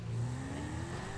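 Steady engine drone of a car driven through city streets in GTA 5, a continuous mid-level hum with slight rises as it revs, no talk over it.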